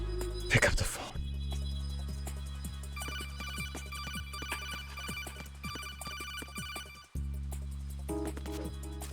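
A telephone rings in Metal Gear Solid 2: HD Edition, a steady electronic ringtone that loops for several seconds over low in-game ambience, briefly cuts off, then resumes, with someone talking over it.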